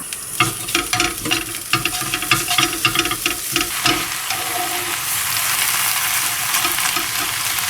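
Beef sizzles and crackles in a hot pan for udon, with stirring and scraping in the first half, then a steady, loud frying hiss that carries to the end without talk.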